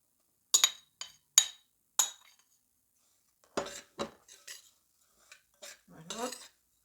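Oat flakes and flour are mixed in a bowl with a utensil, giving sharp scattered clinks and scrapes against the bowl. Short quiet pauses fall between strokes, with no talking.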